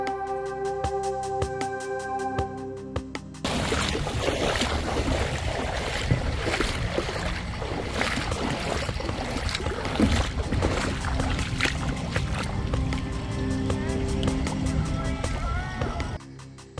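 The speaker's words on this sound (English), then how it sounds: "it was another 5-minute ride in the small boat." A small resort boat crossing the sea from Sihanoukville Pier toward Koh Rong Samloem in Cambodia, its steady engine roar and water rush running loud and continuous after a quieter start, with no talk.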